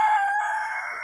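A purebred chicken from a small backyard flock crows once, a loud, close, sustained call with no voices around it.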